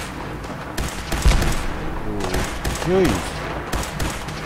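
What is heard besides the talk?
gunfire in the video game Fallout 4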